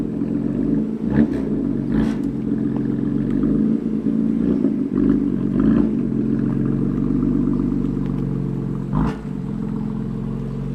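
A 2018 BMW M4 Competition with a manual gearbox, its engine droning steadily with a low, smooth note, with a few brief sharp clicks or clatters along the way and no talking.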